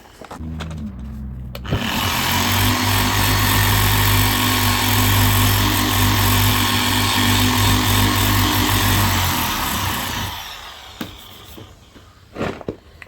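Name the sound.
power sander sanding car paint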